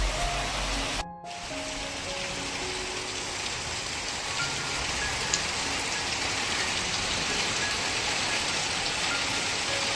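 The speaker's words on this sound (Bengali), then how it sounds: "বাইরে দেখো গাইস কি পরিমাণে বৃষ্টি হচ্ছে।" Heavy monsoon rain pours steadily outside a temple during a downpour, a dense, continuous hiss that stays loud and even throughout, with no voices.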